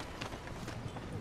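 A horse gallops in the video game Red Dead Redemption 2, its rapid hoof thuds faint and muffled under a low background rumble.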